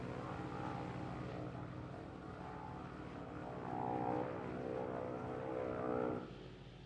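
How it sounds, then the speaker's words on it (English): Steady propeller engine drone of a PZL Vilga bush plane in flight in a simulator, a continuous loud hum with harmonic tones that swell slightly mid-way, no talking. "We're in the PZL Vilga, a really nice plane,"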